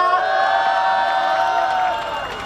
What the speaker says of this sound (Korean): 네, 다시 한번 큰 박수와 환호 부탁드리겠습니다.